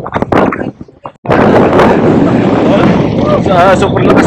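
Strong wind blasts across the microphone at a riverside fishing spot, a loud, continuous roaring rumble that takes over after a brief stretch of talking at the start.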